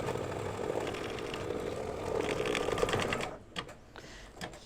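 A home embroidery machine stitches a placement outline in red thread for an in-the-hoop mug rug, giving a steady, fast mechanical whir and rattle that stops short near the end, leaving a few faint clicks.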